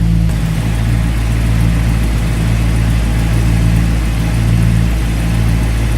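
A 1969 Ford Mustang Shelby Cobra GT500 with a 428 V8 idles steadily with the hood open, a loud, deep, even rumble heard up close with no talk over it.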